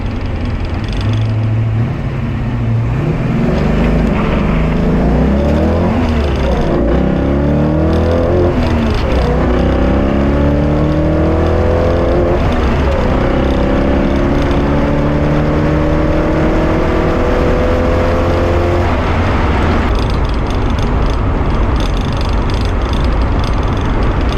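A mild 308 V8 Holden Torana street car accelerates hard on a quarter-mile run, its loud engine revving up through several gears in rising sweeps with brief drops at each short shift.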